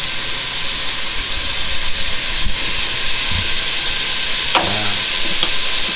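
An egg sizzles steadily in a hot pan while salt is sprinkled on, giving a loud continuous hiss with a few light scrapes and taps near the end.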